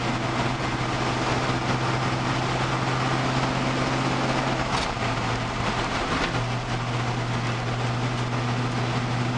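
A 1968 Chevy C10 pickup, mostly original, runs with a loud steady engine drone and deep harmonic hum that shifts pitch slightly as the throttle is pressed, sounding sluggish rather than revving up, with no voices.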